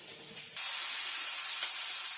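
Oil sizzling on a hot tawa griddle, a steady hiss that swells a moment after the start and holds evenly, close by, with no talking.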